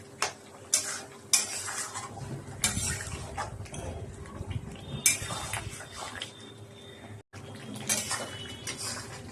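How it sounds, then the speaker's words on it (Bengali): Marinated chicken sautéed in a kadai, a spatula scraping and clanking against the metal pan in repeated strokes over a soft sizzle, close and fairly quiet, with no speech. "এবার ম্যারিনেট করা চিকেনটা একটা কড়ার মধ্যে দিয়ে আমি 20 মিনিট কুক করে নেবো,"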